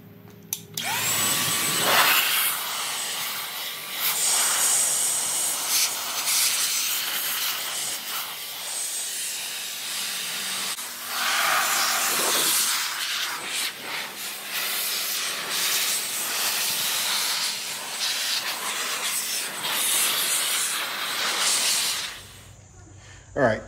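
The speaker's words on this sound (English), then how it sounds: "drying canister to get any water, any kind of liquid that's still caught in any kind of crevices or anything like that" A drying canister blows a strong, steady hiss of air across car paint to clear water from crevices, running almost continuously for about twenty seconds with a brief dip partway through, close and loud.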